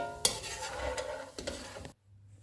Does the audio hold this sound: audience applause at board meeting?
no